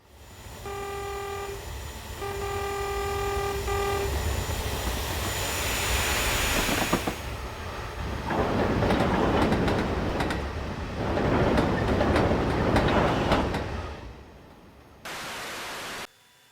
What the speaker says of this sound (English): The turbine sounds like a jet engine